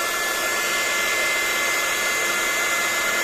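A heat gun blows steadily to melt embossing powder for a Heartfelt Creations hollyhock rose card project, a loud, continuous broadband whoosh with no break and no voices.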